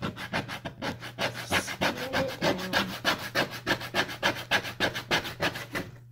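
A plastic claw rubbed back and forth on skateboard grip tape, giving a steady run of close, rhythmic rasping strokes like sandpaper, about three per second.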